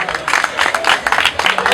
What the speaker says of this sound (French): On applaudit la maître.